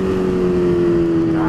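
A modified motorcycle engine running on nitromethane holds a loud, steady droning note up close, with no rise or fall in pitch.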